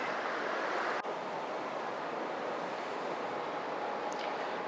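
Steady, full-band roar of the river rushing over the Falls of Leny near Callander, Scotland, a continuous close wash of water with no voices and one brief knock near the start.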